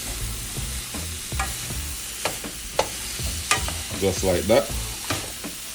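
Spicy jerk chicken pasta stirred in a sizzling pan, with repeated scraping and clattering strokes over a steady frying hiss and a brief spoken phrase.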